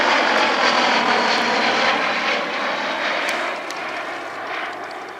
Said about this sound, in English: When you hear that low rumble and the whistle of the Mercury engine